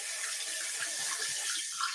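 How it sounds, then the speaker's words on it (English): Cold tap water runs steadily over strained pasta in a kitchen sink, a continuous close splashing hiss with slight gurgling variation and no talk. "Run some cold water on it."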